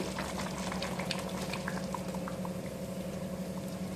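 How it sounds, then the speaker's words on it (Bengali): Yogurt poured into hot oil in a pan with chicken for a Bengali panch phoron chicken curry, giving a steady, moderately quiet sizzle and bubbling throughout with faint stirring patter. "এবার আমি দিয়ে দিচ্ছি দই"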